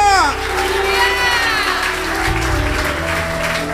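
A church congregation claps and cheers during worship, a broad wash of applause and crowd voices mixed with sustained music and singing.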